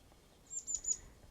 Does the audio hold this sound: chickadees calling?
yes